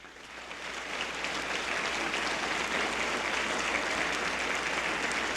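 A church congregation applauds for the King, a steady, sustained wash of many hands clapping together that holds evenly throughout.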